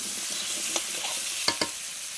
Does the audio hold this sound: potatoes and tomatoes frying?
yes